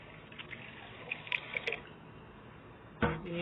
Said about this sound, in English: We are filling the tank.